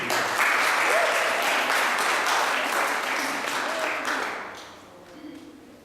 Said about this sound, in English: let's give these guys a round of applause to get some energy